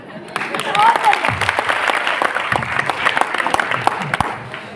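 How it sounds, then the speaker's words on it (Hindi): Moderate clapping from a school audience in Indore, with uneven hand-claps rising and falling over a few seconds alongside a little talk. "इस पर भी ताली बजना चाहिए।"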